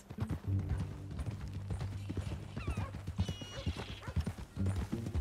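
Horse hooves clip-clop steadily in Red Dead Redemption 2 while a horse whinnies partway through, with game dialogue and background sounds around it.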